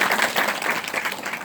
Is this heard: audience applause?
yes